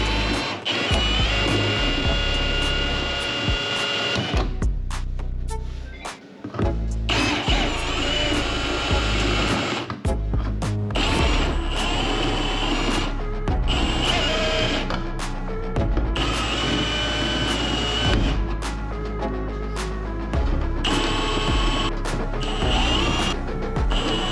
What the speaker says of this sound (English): I'm gonna try the spot weld bit first.